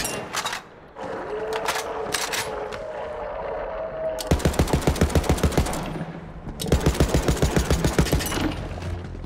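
Automatic gunfire in Borderlands 3: two long, rapid bursts of evenly spaced shots, loud and close, after a stretch of game ambience with tonal effects.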